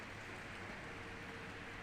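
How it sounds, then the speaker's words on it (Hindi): Light rain falls steadily as a soft, even hiss, continuous and close, with no voices. "तो बारिश ही आई है हल्की फुल्की सी"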